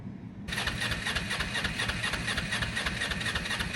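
A motorcycle engine starts abruptly after a brief quiet moment, then settles into a steady, loud, close-up idle.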